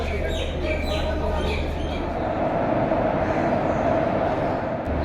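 A passenger train stands at a railway platform, its engine sending out a steady, loud low rumble and hum. Birds chirp now and then above it, and no one speaks.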